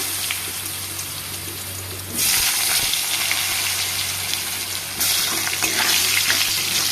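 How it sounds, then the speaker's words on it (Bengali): Loud sizzling as potatoes drop into hot oil with cumin and bay leaf, the frying hiss jumping up sharply twice as more pieces go in, close and steady throughout. "জিরে তেজপাতা পুড়ে গেছে, এখন দেবো আলু।"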